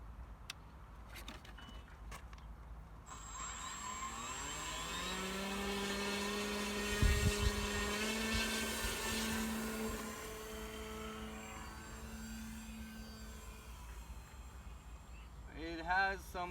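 The electric motor of a DGA-6 V2 RC model airplane on its maiden flight runs just above half throttle, a faint buzzing whine that rises in pitch and swells, then fades with distance.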